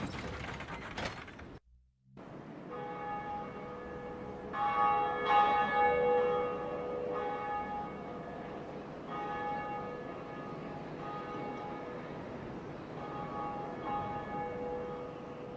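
Church bells ringing in the video game Dark Souls, sounding as repeated sustained metallic tolls with ringing overtones, moderately loud after a brief silence, with a mechanical ratcheting undertone and no talking.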